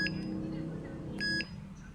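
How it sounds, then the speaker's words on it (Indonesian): An Arduino buzzer serving as a turbid-water alarm gives two short, high electronic beeps about a second apart over a low background hum. "Dan buzzer berbunyi sebagai indikator bahwa air tersebut keru."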